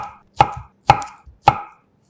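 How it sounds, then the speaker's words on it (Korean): A knife cuts cooked kabocha squash into thumb-sized chunks on a board: three crisp, evenly spaced chops, close and clear against silence. "식은 단호박 1개는 먹기 편하게 엄지천마디 크기 정도로 빚어 썰어주면 야채찜 재료 준비 끝."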